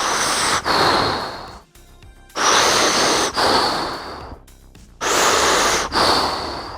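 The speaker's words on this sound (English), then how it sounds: "then you breathe heavily so that your torso starts moving." Heavy, forceful breathing during a kettlebell mobility exercise: three long, loud, close breath cycles, each a rushing airy inhale and exhale with short quiet gaps between them.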